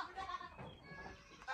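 A young goat on a farm bleats close by, a short, wavering cry that rises and breaks, heard alone against faint background sound.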